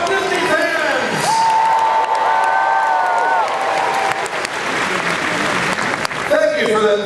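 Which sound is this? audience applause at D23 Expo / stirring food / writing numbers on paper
audience applause at D23 Expo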